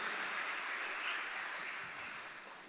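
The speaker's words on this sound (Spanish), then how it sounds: "Démosle un fuerte aplauso a nuestro Dios" Congregation clapping in a church service, a steady dense wash of applause holding for the whole stretch and easing slightly toward the end, with no voices over it.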